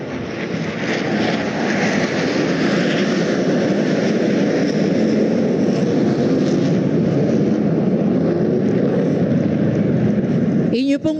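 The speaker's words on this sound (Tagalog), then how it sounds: "Inyo pong nasaksihan ang high-speed opener pass o ang mabilisang paglipad ng FA-50PH o ang tinaguriang Fighting Eagle." An FA-50PH Fighting Eagle fighter jet makes a high-speed pass over a military-civic inauguration parade, producing a loud, sustained broadband roar that holds steady for about eleven seconds with heavy wind buffeting.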